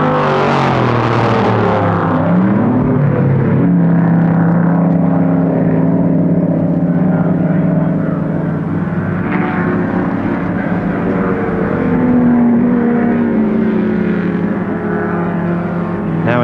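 Ford Falcon GTHO and Ford GT touring cars at full throttle down a long straight at Warwick Farm circuit, a loud sustained engine roar with pitch sweeping upward through the gears, steady and close throughout.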